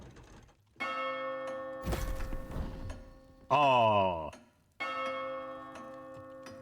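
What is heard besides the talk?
bell ringing in Sea of Thieves video game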